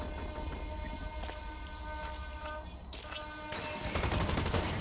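Gunfire in the Blacklight Retribution video game, bursts of rapid shots over a steady mechanical din, loud and close, growing denser toward the end.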